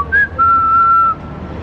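A person whistles on the Pont de la Concorde in Paris, giving a short rising note followed by a longer steady tone, clear and close, with no talking.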